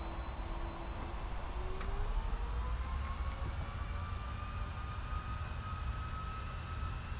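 Jet engines of a Polar Air Cargo airliner spooling up to takeoff thrust in a flight simulator, a steady loud roar with a rising whine that climbs in pitch throughout.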